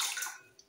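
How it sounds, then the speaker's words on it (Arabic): Warm water poured from a glass into a bowl of dough ingredients makes a brief, close splashing pour that trails off quickly, with a tiny drip at the end. "نحطوا كاس ماء دافي"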